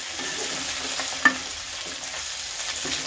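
Shrimp frying with grass pea greens in a pan, a soft continuous sizzle broken by scraping stirs and one sharp clink of the utensil against the pan.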